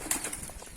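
Pigeons in a coop for local and fancy breeds flap their wings in a brief burst, a quick flutter of soft wingbeats at moderate distance lasting under a second.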